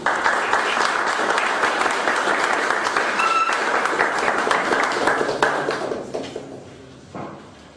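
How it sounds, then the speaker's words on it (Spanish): Loud, sustained applause from a crowd, steady for several seconds before thinning out and fading, with a brief final burst of claps. "Démosle un fuerte aplauso"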